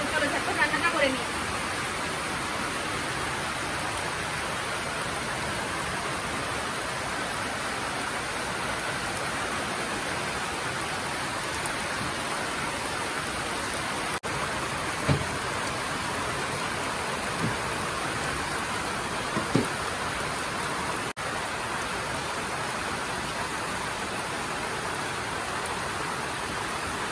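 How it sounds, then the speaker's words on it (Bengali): Heavy rain pours down outdoors as a dense, steady hiss that fills the whole clip, with a few faint thumps and clicks rising briefly above the constant downpour. "প্রচন্ড পরিমাণে বৃষ্টি হচ্ছে বাইরে"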